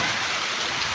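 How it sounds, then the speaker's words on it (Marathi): Heavy monsoon rain pours steadily and close by at a doorway, a dense continuous hiss with no gaps and no voices. "पाणी मावना दारात, इतका पाऊस चालू आहे"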